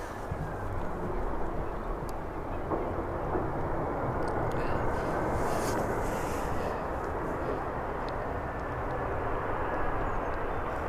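An EasyJet airliner at Birmingham airport gives a steady, broad engine roar that holds at an even level throughout, heard from some distance outdoors with no talk.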